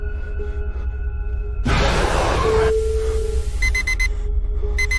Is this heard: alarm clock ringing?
yes